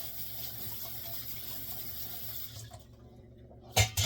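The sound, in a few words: rinsing organic cherry tomatoes under running tap water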